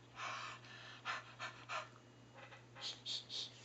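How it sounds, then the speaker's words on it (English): Soft breathy huffs are puffed onto an inked rubber stamp for a card-making project, a series of short exhalations heard close up and quiet over a low steady hum. "huff on it."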